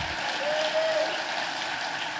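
Crowd applause at a Super Bowl-related speaking event, a broad wash of clapping heard from a distance, steady and unbroken through the moment.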